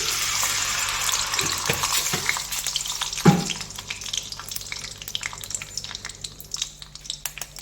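Sugar frying in hot oil in a pan for Bengali mustard chicken, a close, steady sizzle with a few stirring knocks and one sharp clatter, gradually easing in loudness, no talking.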